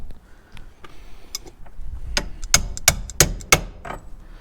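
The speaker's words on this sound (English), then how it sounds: "I may have to tap that in. with a socket of some sort." A freshly greased bearing is tapped into the column-shift 4-speed manual transmission of a 1961 Mercedes-Benz 220Sb W111 using a socket. A handful of sharp metallic knocks land close together in a quick irregular series, with faint clinks before them.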